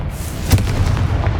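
A short, punchy blast from the Confringo fire spell in Hogwarts Legacy, one sharp burst set against a low background rumble.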